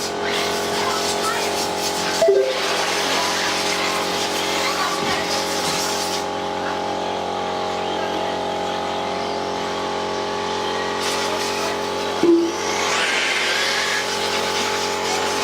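Radio-controlled model cars racing around a track at a Laitse RC event, a steady whining motor drone with passing surges, under continuous race commentary.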